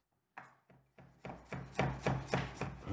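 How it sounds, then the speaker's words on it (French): Garlic is crushed for a tartiflette, about eight thudding presses in a steady rhythm that grow gradually louder and crunchier, close and alone. "J'écrase un peu d'ail."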